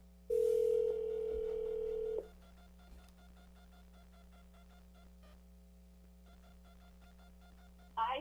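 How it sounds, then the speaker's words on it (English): Steady landline telephone dial tone in a county commission meeting room, loud and continuous for about two seconds before cutting off, followed by faint room hum and a brief clatter at the end. "I think I have to dial an 8 or a 9 or something."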